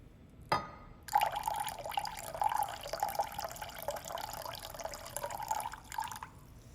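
Rice vinegar pours into a measuring cup in a steady splashing trickle lasting about five seconds, preceded by a single sharp clink of the bottle or cup, close and without talk.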